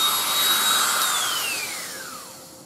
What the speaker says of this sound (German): Und dann werde ich das bohren und werde da einfach M3-Schrauben durchjagen.